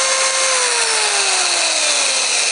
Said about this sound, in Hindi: सबसे सस्ता ड्रिल हैमर ड्रिल मशीन है टाइगर का